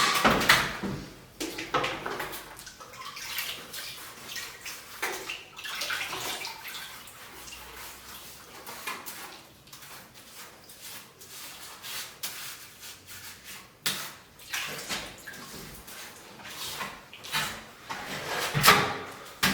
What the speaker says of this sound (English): So what I'll do now is clean the trowel off, get it nice and wet, and just get it back on.